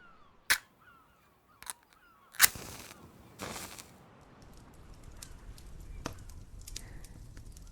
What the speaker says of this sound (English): I'll start a fire.